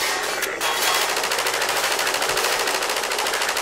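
Rapid machine gun fire in the Half-Life 2 video game: loud, continuous automatic bursts running the whole time with no pauses and no talking.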